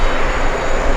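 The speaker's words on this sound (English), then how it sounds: "We have the 777 coming in." A Saudia Boeing 777 in special anniversary livery roars in on approach at JFK, a loud, close, steady jet rumble with a high whine over it, no voices.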